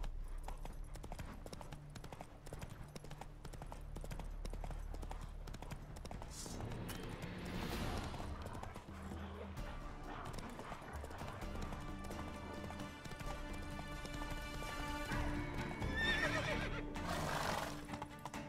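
Roach, a horse in The Witcher 3, clip-clopping and galloping with a steady hoof rhythm under game music, with a whinny and occasional low talk.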